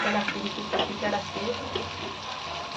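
Egg frying in a pan of masala for a spicy egg roast, with a steady, close, crackling sizzle that runs throughout and a few brief stirring scrapes.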